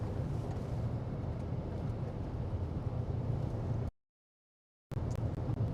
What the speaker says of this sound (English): So that's why it sounds like we're running over a whole bunch of dirt.